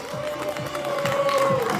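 Spectators at a women's 2000 m race in the Tartu KEVEK running series clap and cheer as runners finish. The applause is steady and crowd-like, with loose rhythmic claps and a murmuring crowd throughout.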